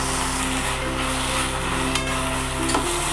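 Gongura leaves cook in a little oil in a pan, making a steady close hiss with a low background hum and a couple of faint knocks near the end.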